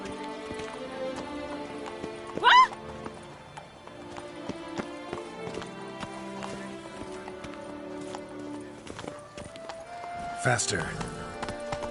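In The Witcher 3, the horse Roach gallops with a steady clip-clop of hooves under ongoing game music and sound effects, while a voice speaks briefly and a sharp whoosh rises twice.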